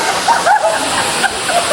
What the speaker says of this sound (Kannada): ಫಾಲ್ಸ್ ವ್ಯೂ ಇಲ್ಲಿಂದ ಹೆಂಗೆ ಕಾಣಿಸ್ತಿದೆ ಗೊತ್ತಾ?